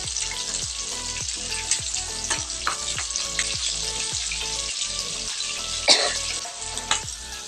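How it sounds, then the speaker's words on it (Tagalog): Chicken feet frying in oil in a pan, a steady loud sizzle and crackle running throughout with regular soft clinks, and one brief cough near the end. "tapos na natin iprito lahat"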